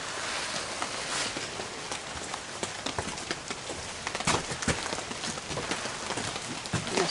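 Rain driving in sideways through holes in a tarp covering a porch roof, a steady dense patter with irregular heavier drips and splats scattered throughout, fairly close and continuous with no voices.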